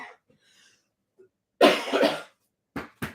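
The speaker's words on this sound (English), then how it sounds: "I'm going to go cough over here." A person coughs near the microphone in a home kitchen while baking sourdough bread, with one harsh, drawn-out cough followed by two short, sharp coughs after faint breaths.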